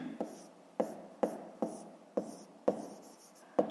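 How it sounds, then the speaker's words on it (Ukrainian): A pen writes on paper during a math exercise, quiet close scratching in short strokes with sharp taps about every half second, in a hushed room. "Пишемо."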